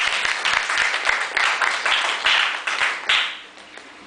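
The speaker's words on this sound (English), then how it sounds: "Should we clap for Isha?" Classroom audience clapping together, a dense burst of many hands with individual claps standing out, steady for several seconds then thinning toward the end.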